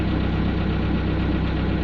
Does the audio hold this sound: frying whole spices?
no